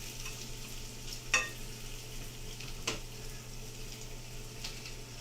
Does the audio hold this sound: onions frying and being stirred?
yes